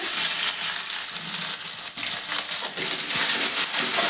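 Garlic-ginger paste hits hot oil with cumin seeds already crackling, giving a loud, steady, close sizzle with small bursts of spatter and stirring scrapes.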